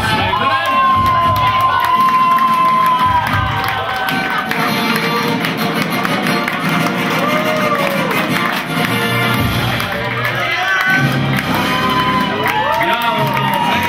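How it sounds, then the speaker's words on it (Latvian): Audience at a Red Sun Buffet awards ceremony applauds and cheers for the prize-winning girls, a loud sustained mix of clapping, shouts and whoops that swells and dips while voices talk over it. "Aplausus meitenēm!"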